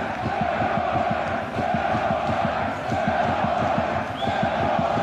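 Stadium crowd roaring after a goal at a Bulgarian football match, Beroe versus Hebar: a steady, loud wall of crowd noise with rhythmic chanting and clapping pulsing through it for several seconds.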